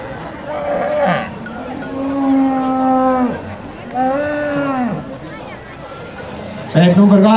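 Estonian Red heifers moo loudly and close at a livestock show, several long drawn-out calls with rising and falling pitch, while a voice speaks over the arena.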